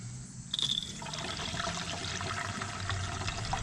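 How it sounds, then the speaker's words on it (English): Antifreeze drains out of a travel trailer's opened low point drains in a steady, fairly close trickling and splashing pour that starts abruptly and continues without pause. "open the low point drains up"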